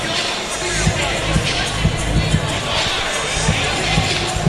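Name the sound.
sold-out crowd cheering at a Cage Titans MMA fight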